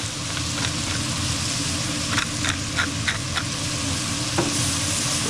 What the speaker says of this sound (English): Now we want these vegetables to sweat.